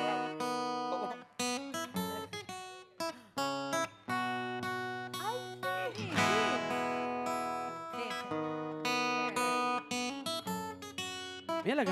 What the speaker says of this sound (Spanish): Suena así, pero es la canción de Telenoche.